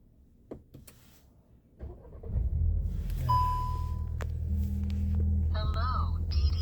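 A 2026 Volkswagen Passat's engine auto stop-start: after near quiet and a few clicks, the engine catches at about two seconds and settles into a steady low hum with chimes, while a person talks.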